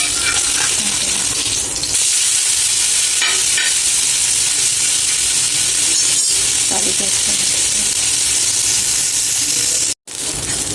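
Masala with added garlic frying in a pan, a steady loud sizzle running continuously with faint stirring scrapes, briefly cutting out near the end.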